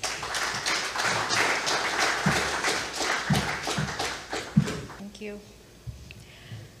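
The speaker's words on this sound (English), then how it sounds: "Can you please give her a round of applause?" Applause from a crowd at a community celebration event, a dense wash of clapping that rises, holds, then thins out with a few last claps and background chatter.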